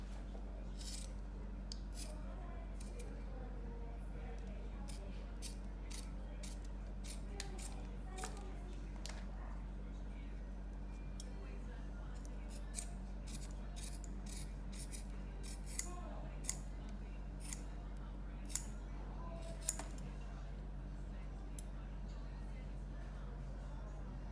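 Scissors trim the edges of a volar finger trough splint in many quiet, scattered snips, with faint voices and a low background hum.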